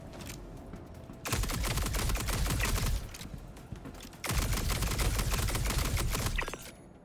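Volt weapon tasing shots from the video game Star Citizen, two loud sustained bursts of rapid crackling fire, each lasting over a second, separated by a short quieter gap.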